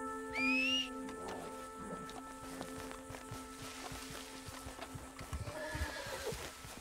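A horse whinnies once near the start in Red Dead Online, followed by steady clip-clopping hooves and ambient game background sounds.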